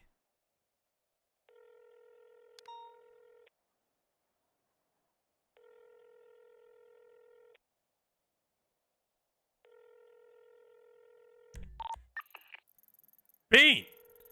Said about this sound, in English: Benjamin, answer the MF and phone, Benjamin.